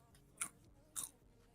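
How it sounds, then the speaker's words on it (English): Two crisp, close crunches from biting into thin Lay's sour cream potato chips, separated by a short pause, over a quiet background. "Try to guess what flavor chip it is based on the crunch."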